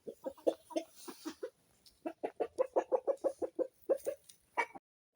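A rooster and hens cluck in a backyard pen, a run of short rhythmic clucks in quick bursts with brief pauses, fairly close and alone without talk.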